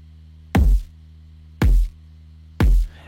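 Three punchy electronic kick drum hits, evenly spaced about a second apart, each with a deep booming low end over a faint steady hum.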